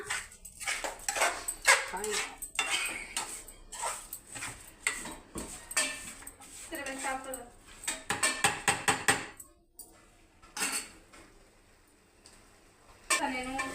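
Ingredients for a ripe red chili paste are stirred in a metal pot, making irregular clanks and scrapes of a spoon against the pot in bursts, with a brief quiet lull near the end.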